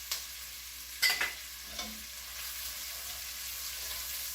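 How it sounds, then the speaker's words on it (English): A couple of chopped garlic cloves sizzling in a pan for Greek spice-braised chicken, a quiet steady hiss with a few soft knocks of stirring early on, no talking. "I'm going to add in the garlic now, a couple of cloves of garlic chopped."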